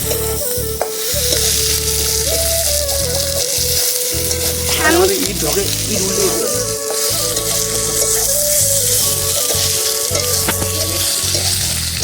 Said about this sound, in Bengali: সো গাইস মাংস ভাজা হয়ে গেছে